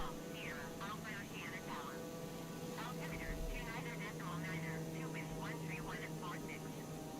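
Constant drone of a plane engine in a flight simulator video game, a steady hum running throughout beneath a person talking.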